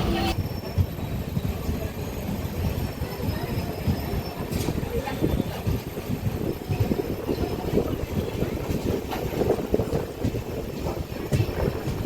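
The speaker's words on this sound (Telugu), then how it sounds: "అండ్ చూడండి భయ మన ట్రైన్ కూడా బయలుదేరింది." Lingampally Intercity Express passenger train rolling out of Mangalagiri station on the Vijayawada to Secunderabad run, steady loud rumble and clatter of wheels with faint squeals, heard from inside a crowded coach throughout.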